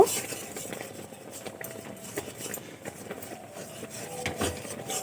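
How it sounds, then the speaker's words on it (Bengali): Rice flour being mixed into dough in a bowl, with soft irregular scraping, tapping and stirring knocks close by, fairly quiet and uneven in rhythm. "এভাবে খুব ভালো করে মিশিয়ে ডো তৈরি করে নেব"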